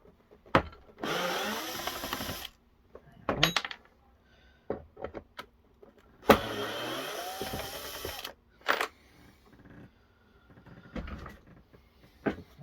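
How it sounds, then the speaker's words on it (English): A power driver backs screws out of a Bosch Rotak 32r lawnmower during scrapping. Two whirring bursts of a couple of seconds each rise in pitch, separated by light metallic clinks and handling taps, close and fairly quiet. "we can remove these screws"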